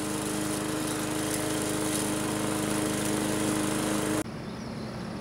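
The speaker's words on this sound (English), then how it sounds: "we picked up the cheapest push mower from Lowe's, and we're gonna walk these 2 acres." A cheap push lawn mower from Lowe's drones steadily and loudly while cutting a large grassy lot, its engine tone constant until it cuts to a quieter hum near the end.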